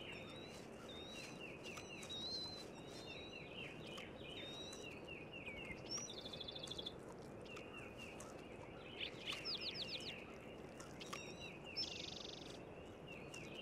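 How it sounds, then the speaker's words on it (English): A sharp-shinned hawk feeding its young in the wild: thin, high chirps and short squealing calls come in scattered bursts, faint and somewhat distant, over a constant low outdoor hiss. "this sharp-shinned hawk, already feeding its young for the third time of the day"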